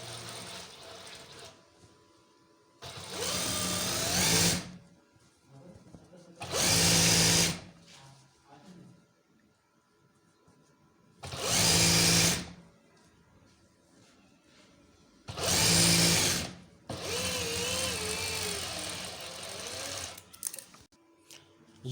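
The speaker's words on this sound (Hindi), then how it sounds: "अस्तर पैनल जो है हमने स्टिच कर दिया है।" Sewing machine stitching a waistcoat lining panel, running in five bursts of steady whirring a few seconds each, separated by quieter pauses with faint handling and voice.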